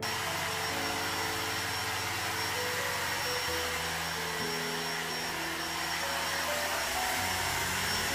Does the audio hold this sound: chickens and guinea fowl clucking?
no